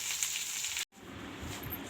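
Okra frying in a pan gives a steady, close hiss of sizzling oil that breaks off for a moment and then resumes, with no talking.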